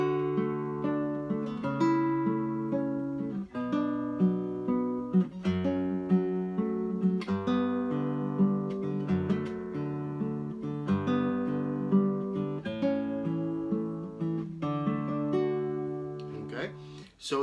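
Two guitars pluck interlocking arpeggiated chords together, a steady flow of ringing notes that repeats in even phrases for the whole stretch, with no talking over it.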